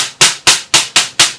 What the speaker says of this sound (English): I'm just tapping about maybe an inch away from the edge of the drum skin.